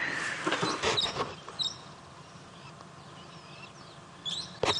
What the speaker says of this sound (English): Byron was talking earlier about some brown-headed parrots, which he probably heard calling